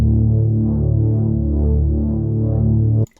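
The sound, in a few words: Serum Reese bass synth with LFO modulating filter cutoff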